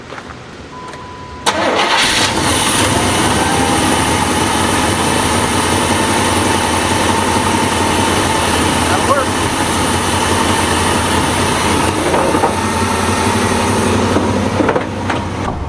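Big block engine in a 1989 dually truck cranks and fires at once, then settles into a loud, steady rumbling run that continues at constant level, close by, with a voice speaking briefly before the start.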